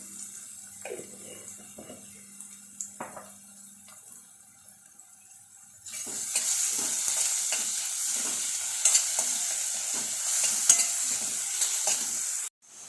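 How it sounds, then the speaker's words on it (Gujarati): Onions with salt sauté in a pan, quiet scraping and small clinks at first, then a loud continuous sizzle with stirring scrapes that fills the rest before cutting off abruptly at the end. "ડુંગળીને સરસ બ્રાઉન કલરની શેકી લઈશું।"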